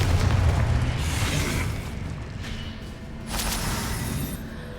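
Confringo explosion spell in the Hogwarts Legacy video game, a loud rumbling boom that fades into a sustained roar with a second burst of noise partway through.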